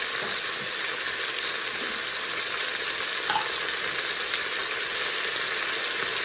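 Stewing beef browning in a frying pan for beef barley soup, a constant loud crackling sizzle with steady hiss and faint spatter, close up and unbroken, with no voices over it.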